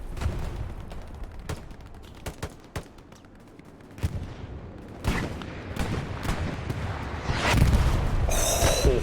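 Dense machine-gun fire in a World War-era shooter game: rapid bursts and scattered gunshots with occasional heavier booms, growing louder and more intense toward the end.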